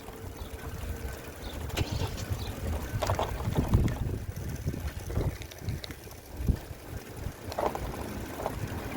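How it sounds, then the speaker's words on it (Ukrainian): Cold wind blows outdoors in the Netherlands, gusting and buffeting the microphone in uneven rumbling bursts with a hollow rushing background and no voices. "А вітер холодний."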